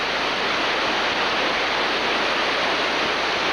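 Class 2 river rapids with big waves rush in a loud, unbroken wash of churning whitewater, steady and close, with no pauses or speech.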